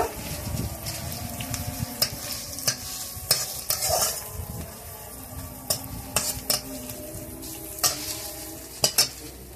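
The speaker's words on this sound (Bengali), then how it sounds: "রসুন বাটাও কিছু সময় ভেজে নেব।" Onion and garlic paste for a chicken curry fries in a pan, with continuous sizzling and repeated metallic spoon scrapes and clinks against the pot, close and without speech.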